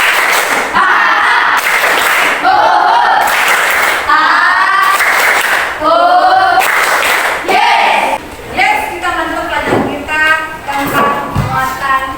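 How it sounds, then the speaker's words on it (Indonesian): A classroom group does a rhythmic spirit clap, bursts of loud claps in a patterned beat mixed with chanting voices, close and full, ending in scattered claps. "Tepuk semangat."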